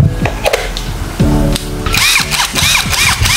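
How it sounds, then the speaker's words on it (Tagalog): A cordless battery-powered impact wrench, supplied with two batteries, runs in a few short loud bursts of whirring and rattling hammering, close up and alone, with no talk. "ito yung mismong impact wrench natin"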